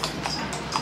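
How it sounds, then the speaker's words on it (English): Hooves of a horse on a street in China clip-clop close by in a quick run of sharp, hollow knocks. "Oh God, the horse."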